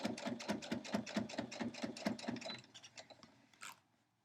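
A sewing machine running a few backward stitches on fabric for a cat quilt block border, a fast even mechanical chatter of needle strokes for about two and a half seconds, then slowing and stopping with a light clack.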